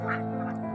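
A duck quacks once, loud and close, a brief nasal call outdoors in a harvested, wet rice paddy where the flock is let out to forage in the morning.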